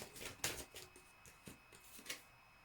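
A tarot card deck being shuffled, heard as soft riffling and flicking bursts with a few sharper card snaps spaced unevenly, close and fairly quiet with no talking.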